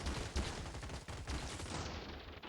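Shotgun-armed robots trading fire in a Gladiabots battle, a faint rapid patter of many small shots overlapping into a continuous skirmish.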